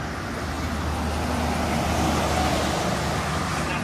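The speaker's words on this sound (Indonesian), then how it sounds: "Bus Putra Mulia." A Putra Mulia bus passes on the Trans Java toll road near kilometer 429, a steady broadband roar of engine and tyres that fills the clip at close range, with constant traffic noise and no speech.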